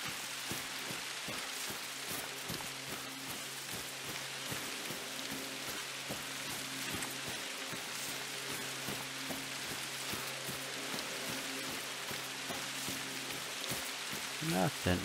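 Steady rain falls in the hunting game theHunter: Call of the Wild, a constant dense patter throughout with faint background tones and a short bump at the very end.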